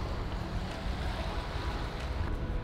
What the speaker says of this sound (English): For sure gonna get wet over here when these waves roll in.